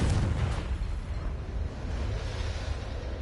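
A deep, rumbling blast from Bombarda and Confringo spells in the Hogwarts video game, booming loud at the start and trailing off into a long, roaring decay of debris and rumble.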